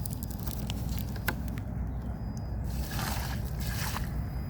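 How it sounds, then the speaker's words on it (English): Water is poured onto organic tea compost, giving a steady close hiss and slosh with soft squishy patter and a few sharp drips or scrapes, and no voices. "I'm gonna show you what happens when I pour some water on this."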